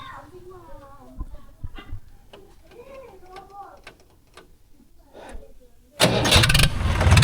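The engine of a Mahindra 575 DI Bhoomiputra tractor catches and starts abruptly, then runs loud and rough, after a stretch of people talking and a few clicks.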